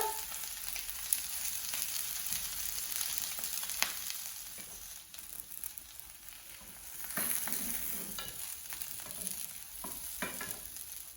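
Eleven falafels fry in a pan with a steady, close sizzle and crackle that runs the whole time. Occasional sharper pops and a few soft stirring or utensil touches break through, and no one speaks.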